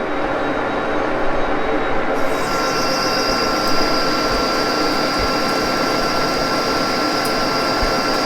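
Engine lathe taking a cut off a workpiece's diameter: a steady, loud, broadband machining roar that holds unbroken throughout, with a faint high whine that rises partway through, and no voice.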